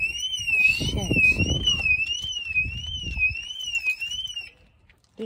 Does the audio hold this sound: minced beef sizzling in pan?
no